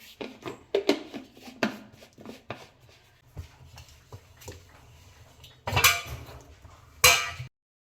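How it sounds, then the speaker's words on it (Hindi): Dishes, pots and utensils clink and clatter as they are put away in a home kitchen, a quick run of close, bright knocks and chinks followed after a lull by two louder rattling bursts. "बर्तन लगा देती हूँ।"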